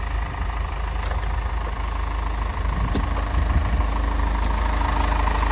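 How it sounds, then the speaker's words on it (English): A 2015 Hino 195 box truck's 5-liter diesel engine idles steadily nearby, a low continuous rumble with faint clatter and occasional small knocks, no voices. "This is that 5-liter diesel engine."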